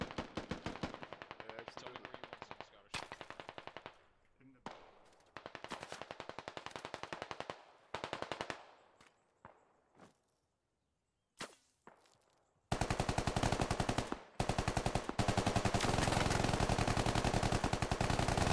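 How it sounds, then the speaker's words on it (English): Automatic gunfire in the military shooter game SquadOps rattles in long rapid bursts with brief gaps, ending in a loud sustained volley of machine-gun fire. "Yeah, of course they're going to be firing."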